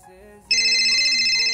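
A phone ringtone with a call from mom starts abruptly after a soft tonal lead-in, then plays as a loud, bright, sustained electronic tone.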